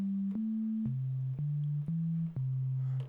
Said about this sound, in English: the first waveform is what is called a sine wave. Which sounds a bit like a test tone.